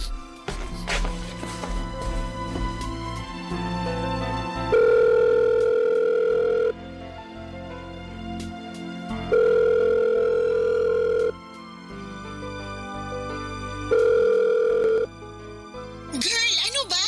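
Cellphone dial tone and telephone signalling while placing a call, steady tones repeating in long bursts over a music bed with voices talking.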